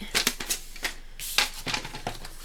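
Card for a Halloween card is cut with a cutting tool, making a series of sharp, crisp clicks and snaps in an irregular rhythm, close and fairly quiet.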